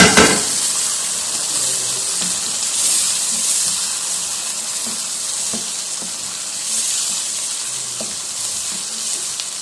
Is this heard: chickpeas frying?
yes